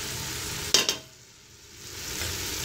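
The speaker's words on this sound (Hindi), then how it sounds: "थोड़ी देर के लिए हम इसे अच्छे से भूनेंगे" Chopped cabbage sizzling in a pot as it is stir-fried before pressure cooking: a sharp double clatter of a spoon against the pot, then a soft continuous frying hiss swelling back up.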